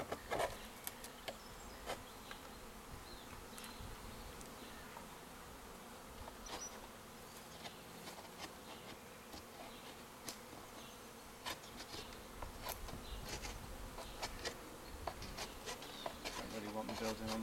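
Bees swarm at an opened hive, a dense continuous buzz close by with scattered clicks and knocks from the hive frames.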